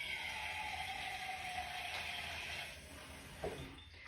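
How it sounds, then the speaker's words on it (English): A small amount of water trickles and pours from a can into a pot of frozen French onion soup chicken, a steady soft close-up stream that thins out near the end, with no talking. "I'm just adding a tiny bit of water"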